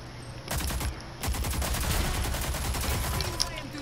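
Shotgun fire in the video game Rogue Company, a rapid run of sharp, loud blasts over dense in-game noise, most of them packed between about half a second and three and a half seconds.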